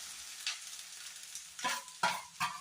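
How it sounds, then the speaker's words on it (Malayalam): Chopped okra and onion sauté in hot oil for an okra curry, a low background sizzle broken by three or four sharper scraping stir strokes near the end. "ഈ എണ്ണയിൽ വെണ്ടയ്ക്ക ഈ അരിഞ്ഞ കൂട്ട് നന്നായിട്ട് വഴന്നു വരണം."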